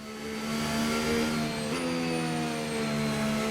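The Williams FW47 Formula 1 car's engine howls at sustained high revs in the F1 25 video game, a loud steady tone with a quick shift-like step in pitch partway through.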